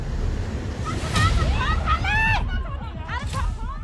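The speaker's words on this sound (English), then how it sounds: "Mountain of gushing water sweeping away everything in its path." Floodwater gushes down from the Himalayas in a loud, continuous roar and rush, with voices and shouting heard over the churning water.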